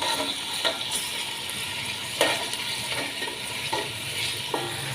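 Finely chopped garlic cloves, three or four of them, sizzling steadily in oil in a pan while a spoon stirs and scrapes now and then, close and continuous with no talk.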